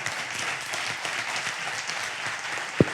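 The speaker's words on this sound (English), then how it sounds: "can we give a big round of applause to these guys?" Audience applause at an enterprise data science conference talk, a steady wash of clapping across the room, with one sharp louder clap near the end.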